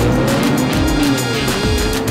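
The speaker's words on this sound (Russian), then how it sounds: "Lamborghini Huracan. Мощность двигателя 610 лошадиных сил." Lamborghini Huracan sports car with a 610-horsepower engine, a steady loud roar with shifting tonal whine holding for about two seconds, no voices over it.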